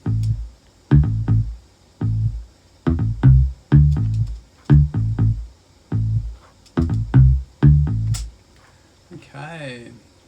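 A deep, punchy synth bass plays a rhythmic pattern of short repeated notes with brief gaps, loud and up front, ending in a warbling sweep.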